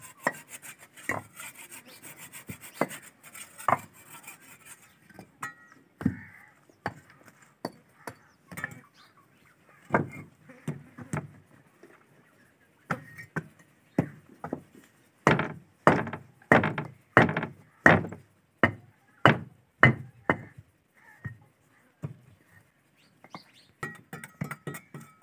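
Rhythmic rasping and rubbing strokes on wood during a home installation of a wooden door, coming in uneven bursts that build into a quick run of loud, regular scrapes. No one speaks.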